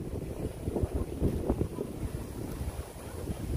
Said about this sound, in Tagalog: Sobrang lakas ang hangin eh.